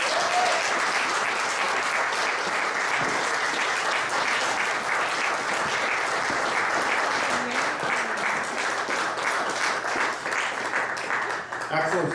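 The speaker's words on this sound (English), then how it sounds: "So a big round of applause for a beautiful pair of lips that make the most beautiful sounds." Sustained, dense applause from an audience at a jubilee celebration of poetry and sound-performance collaborations, steady and loud for about twelve seconds, with voices calling out over the clapping and a few words spoken near the end.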